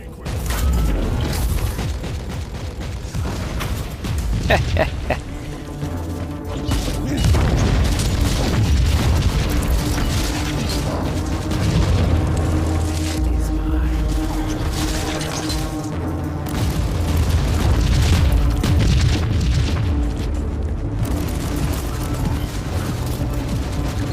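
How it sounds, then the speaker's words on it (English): Grenade blast in the video game Warhammer 40k Inquisitor Martyr, loud booming impacts and crackling bursts over a dense, continuous game soundtrack of rumbling mechanisms and gunfire. "That grenade could be useful now. Well, then let's use it."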